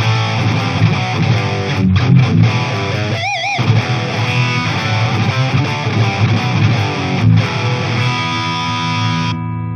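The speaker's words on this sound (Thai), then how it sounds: "ข้ามมาเป็น DS1X นะครับ" An electric guitar runs through a BOSS DS-1X distortion pedal with its knobs set mid-way, giving thick, heavily saturated chords and a brief bent note, played continuously and loudly before the ringing stops abruptly.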